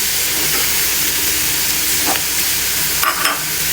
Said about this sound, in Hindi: अच्छा मैं धनिया भी साथ ही डाल देती हूँ इसमें, ये भी भुन जाएगा साथ साथ।